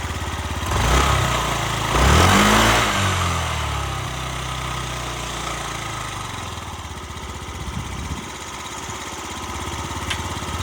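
A Yamaha Gear four-stroke fuel-injected scooter engine revs up twice near the start, then settles into a smooth, steady idle, loud and close, with no talking.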